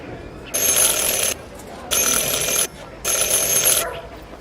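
A bell in the Syberia: The World Before video game rings three times in a steady sequence, each bright, sustained ring lasting under a second with short pauses between, close and clear over quiet background.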